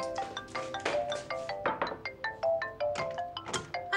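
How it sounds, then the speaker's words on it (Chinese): A mobile phone ringtone plays a quick, repeating melody of bright plucked notes at moderate volume, heard alone with no talking. "高飞要给你打电话催你上班了。"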